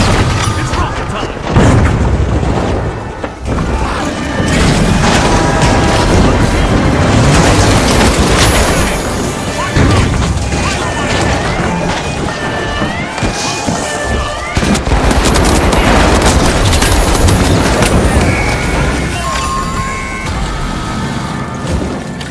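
Rocket explosions and heavy weapon fire in the video game The Finals come as dense, continuous booms and rattling bursts, loud and close, with voices faintly mixed in.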